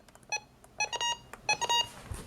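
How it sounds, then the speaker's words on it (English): Short electronic button beeps from a RadioShack 12-261 weather radio, sharp and tonal, in irregular clusters of quick presses with brief gaps between them. "the 262's button beeps sound much more"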